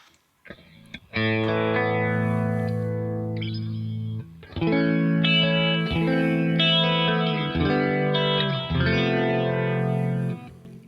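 An electric guitar tone from a Kemper Profiler with a rotary effect switched on rings out in long sustained distorted chords and notes, swirling with chorus-like modulation, loud and alone with a short gap between phrases.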